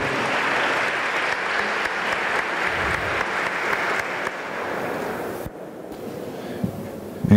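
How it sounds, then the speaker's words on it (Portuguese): Audience applause at a 2017 Best Companies awards ceremony for the winning company McDonald's, a dense, steady wash of many clapping hands that carries on for several seconds, then thins out and fades. "uma salva de palmas, McDonald's."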